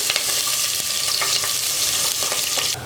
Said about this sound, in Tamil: கட் பண்ணி வச்சுருக்கிற பச்சை மிளகா இஞ்சி ரெண்டையும் போட்டு நல்லா எண்ணெயில் வதக்கிக்கலாம்